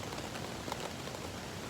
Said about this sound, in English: It's been a bit rainy.